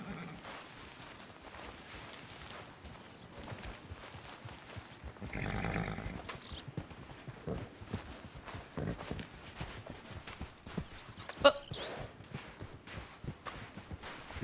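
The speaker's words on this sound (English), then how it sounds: "Horsey." In Red Dead Redemption 2, a horse's hooves clip-clop in a steady walking rhythm at moderate distance, with a neigh breaking through midway and faint ambient game sounds around it.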